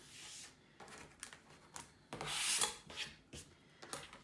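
Rotary cutter and ruler trimming a Campfire quilt block square, quiet scraping and rubbing strokes in short bursts, close and faint, with no talk.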